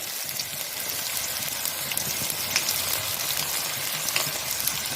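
A continuous hiss and sizzle of chopped onions frying in a hot pan, steady and loud with faint crackles, no voices.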